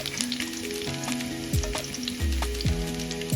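Chicken pepper dry frying on a low flame, heard as a close, steady sizzle broken by several spatula scrapes and knocks against the pan, with no talking.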